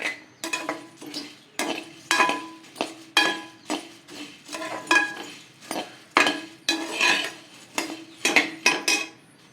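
Paddy puffed rice being roasted and stirred in a pan for nel pori urundai, with repeated metallic scraping and rattling strokes in a steady rhythm, close and fairly loud, no voices.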